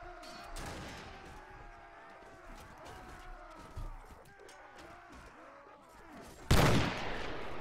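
Gunfire in the Mount and Blade Gekokujo mod video game: one loud, sharp shot bursts out near the end over a steady bed of game ambience and distant battle noise.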